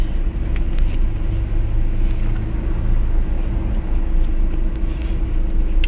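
Inside a parked car while waiting, a steady low rumble and hum fill the cabin continuously and loudly, with faint small clicks and no voices.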